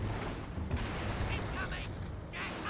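Incendiary mortar rounds striking in Company of Heroes, a muffled run of booms and crackling impacts over a dense battlefield din, with someone talking throughout.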